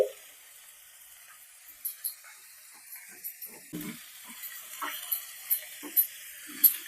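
Grated carrot drops into a pan of softened frying cabbage and onion, giving a low steady sizzle with scattered clinks and scrapes of stirring that grow more frequent toward the end.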